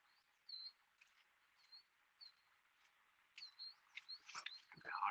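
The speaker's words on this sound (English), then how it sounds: "You hear the birds chirping?" Small birds chirp in short, thin calls at intervals over a faint outdoor hush in a spring forest, with some rustling near the end.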